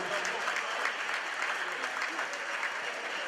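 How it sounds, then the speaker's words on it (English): An audience claps steadily for Ashton Primary School Choir at a library week launch, a dense, even patter of hands heard from within the crowd. "we clap hands for them"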